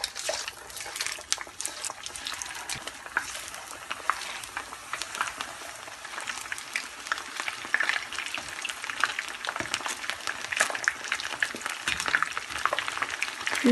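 Fish pieces deep-fry in plenty of hot oil over a high flame for Fish 65, a continuous crackling sizzle with bursts of popping that grow busier and louder toward the end, no voices over it.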